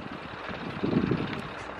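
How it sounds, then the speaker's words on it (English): Low buffeting wind noise against the microphone, steady with a brief stronger gust in the middle, no other clear sounds. "It's a bit windy around that side."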